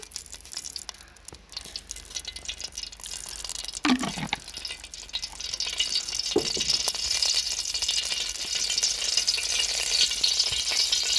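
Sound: crushed dry beef frying in oil

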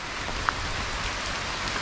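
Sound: light drizzle falling on trees during a monsoon jungle trek

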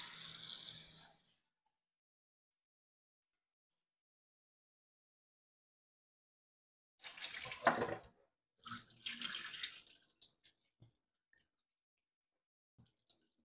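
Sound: water rinsing soaked grains in a bowl for homemade milk

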